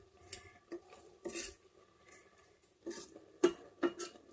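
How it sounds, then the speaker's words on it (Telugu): Spoon stirring semiya kesari syrup in an electric rice cooker, with faint, irregular scraping and clinking against the pot, some sharper taps standing out from quiet gaps. "ఇప్పుడు ఇది తిప్పుకుంటూ అడుగు పట్టకుండా ఈ పాకం అంతా గట్టిగా అయ్యే వరకు వెయిట్ చేద్దాం"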